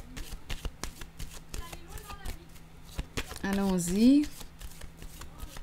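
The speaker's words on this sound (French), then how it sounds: "Je vais déposer une autre carte." Tarot cards shuffled and laid on a table: repeated quick, crisp card snaps and flicks in a busy, uneven patter, close by, while someone speaks briefly over them.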